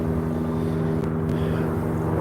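A helicopter flying overhead at night, a continuous droning rotor and engine hum with steady tonal bands, fairly loud and unbroken, with no talk.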